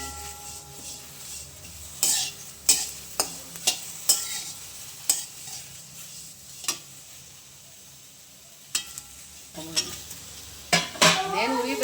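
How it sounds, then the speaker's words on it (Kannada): A spatula scrapes and stirs mint leaves in a pan with sharp, irregular strokes over a soft sizzle, with little talk. "ಸೊಪ್ಪು ಹಾಕೊಂಡು ಸ್ವಲ್ಪ ಹುರ್ಕೊಂಬಿಡೋಣ ಕ್ಲೀನಾಗಿ"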